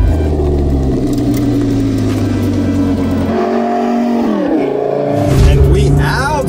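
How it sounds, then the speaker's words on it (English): A Lamborghini engine in sport mode growls and revs close by, its pitch dropping and then climbing again as the throttle opens, with a voice briefly audible. "All the windows are up and you can still hear the engine growling"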